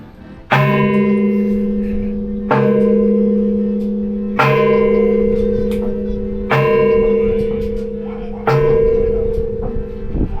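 Large church bells dating from 1896 strike in five heavy, evenly spaced tolls, each ringing out with rich overtones that hang and overlap before the next stroke.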